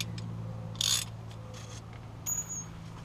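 A car's oil drain plug being tightened beneath the vehicle during an oil change, giving a few faint, short ratcheting clicks and metallic ticks over a low steady background hum.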